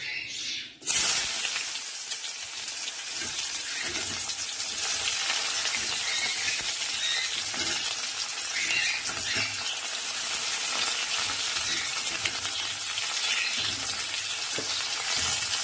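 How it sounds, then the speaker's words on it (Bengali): Onions frying in oil in a pan, a dense, steady hissing sizzle that starts abruptly after a brief quiet moment and continues loud and close throughout. "এবার পেঁয়াজগুলো একটু ভাজা হোক"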